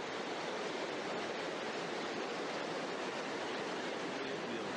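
A river stream flowing in Norway, a steady, even rush of water with no pauses, faint and distant, with no voices over it.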